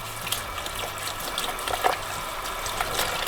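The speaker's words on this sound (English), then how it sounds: "And you just run them under the water and scrub them" A potato scrubbed with a Scotch-Brite scouring pad under running cold water at a sink: a steady rush of tap water with light scratchy scrubbing, close and continuous.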